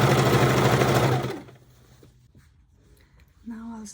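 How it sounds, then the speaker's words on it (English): A sewing machine stitches the lining of a large tote bag with a steady, loud mechanical whir for just over a second, then stops. A voice starts speaking near the end. "Sew the lining together,"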